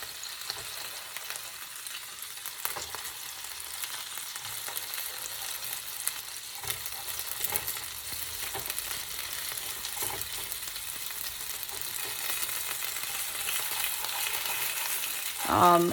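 Fried rice sizzles steadily in a pan for the whole stretch while tongs scrape and turn it with occasional soft knocks, building slightly louder toward a final clatter.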